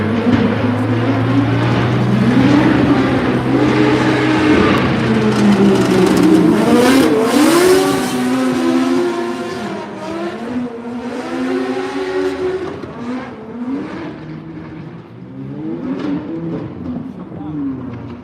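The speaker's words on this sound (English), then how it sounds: "Is that another engine for Marco?" A drift car engine revs and accelerates at a Drift Masters practice day in Germany, rising and falling in loud sweeping pitch at moderate distance, with crowd noise and voices mixed in.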